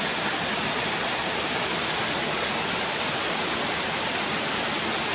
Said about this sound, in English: you can hear the sound of the water running over